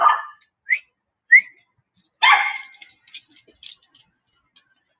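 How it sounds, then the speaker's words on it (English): Short sharp recall whistles called out across an open space to a dog on the far side, a few quick bursts followed by a longer run of chirpy whistle notes, with no talk. "So my first whistle failed,"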